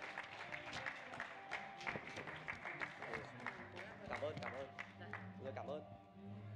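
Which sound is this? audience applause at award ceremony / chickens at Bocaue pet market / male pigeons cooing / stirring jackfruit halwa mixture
audience applause at award ceremony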